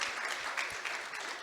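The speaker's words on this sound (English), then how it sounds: "Yes, clap it" Brief, steady applause rises from an audience at an event held by mayors about guaranteed income. Dense clapping fills the short moment without any voice.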